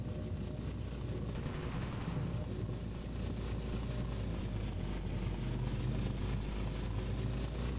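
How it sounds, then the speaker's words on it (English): A helicopter flies overhead in the video game Totally Accurate Battlegrounds, a continuous loud rotor and engine drone filling the whole stretch with no talk. "They're like a chopper or something."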